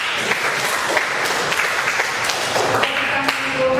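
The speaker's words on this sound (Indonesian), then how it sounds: "Beri tepuk tangan untuk kelas ya." Classroom applause for a class during a school teaching lesson, a steady patter of many clapping hands that runs the whole time at moderate loudness, with a few sharper taps and a faint voice underneath.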